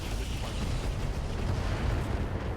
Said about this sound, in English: I am, however, going to fire the Snubnose PPC and the rockets at the Seth.